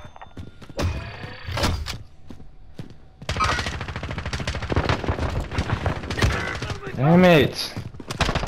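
LMG fire in Call of Duty Warzone, with bursts of rapid shots and a thud, then longer sustained automatic fire mixed with game effects, while a player talks over it.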